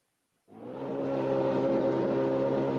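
A race car engine in a sim racing video game starts abruptly after brief silence and settles into a steady, loud droning hum with strong tonal harmonics, holding constant without speech.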